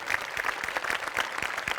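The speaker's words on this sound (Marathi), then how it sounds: "जोरदार टाळ्या" Loud applause from a live audience at a Marathi comedy show, a dense steady patter of clapping filling the whole short stretch with no voices over it.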